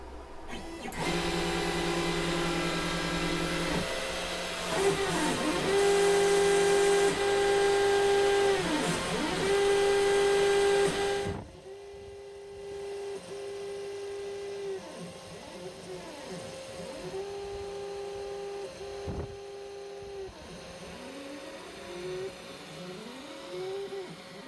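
A FoxAlien 4040-XE CNC router runs a cutting job with a steady, loud whine of stepper motors whose pitch rises and falls with each move. The sound drops to a quieter, continued motor hum partway through.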